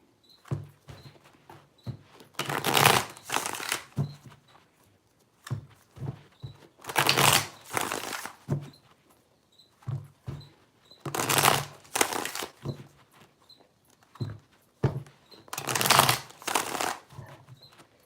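Tarot cards are shuffled in four distinct riffling bursts, evenly spaced and close by, with soft taps and handling noises in between.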